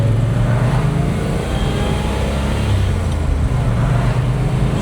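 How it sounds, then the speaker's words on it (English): A 1957 Chevy Bel Air pulling away and shifting through its manual gearbox, a steady close engine drone with low rumble and road noise, rising and dipping slightly as it moves up through the gears. "So again, taking off there a second time, the clutch feels really nice,"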